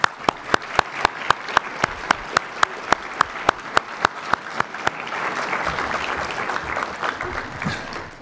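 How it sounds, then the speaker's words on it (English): Applause at a graduate student awards ceremony begins with a few sharp, evenly spaced claps close by, then swells into a fuller, steady round of clapping from the audience. "Please join me in one last round of applause."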